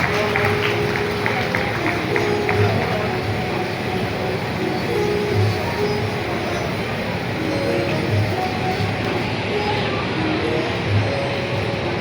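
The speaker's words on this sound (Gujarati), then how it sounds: "જોરદાર તાળીના નાદથી વધાવો" An audience at a village gathering claps continuously for about twelve seconds to honour a family, with dense, steady applause and faint tones underneath.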